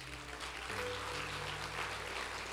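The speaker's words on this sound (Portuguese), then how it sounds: "Dê um aplauso a Ele." Church congregation applauding during a sermon, a steady wash of clapping from many hands with a low musical drone beneath it.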